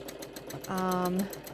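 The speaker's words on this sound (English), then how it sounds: "The machine is running quite fast" A quilting machine runs fast, giving a steady rapid mechanical pulse throughout, with a brief tonal voice-like sound partway through.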